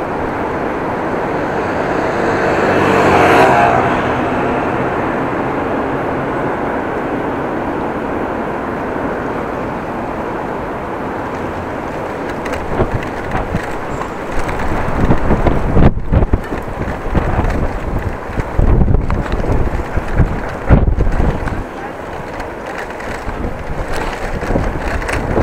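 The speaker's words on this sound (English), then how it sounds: "it's the gusts of wind that takes you all over the place" Gusty wind buffeting a microphone while cycling in the Netherlands, a loud continuous roar that swells and then breaks into heavy rumbling bursts and crackling gusts.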